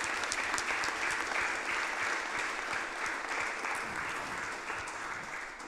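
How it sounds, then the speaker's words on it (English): An audience at an Easter Sunday church gathering applauds the singer Haley, with dense, sustained clapping from a crowd that carries steadily for several seconds and eases slightly toward the end. "Haley, who was singing here, we should clap her once again"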